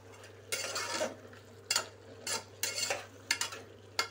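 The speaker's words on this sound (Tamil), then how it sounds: "கிளறி விட்டுக்குவோம்." A spoon stirs drumstick kuzhambu with chopped tomatoes in a pot, giving soft scraping, clinking strokes in several separate bursts over a quiet background hum.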